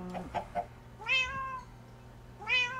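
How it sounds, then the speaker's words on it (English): Cats in Minecraft meowing, two clear drawn-out meows a second or so apart, heard alone over a quiet game background after a few short clicks. "Leave my kitties alone."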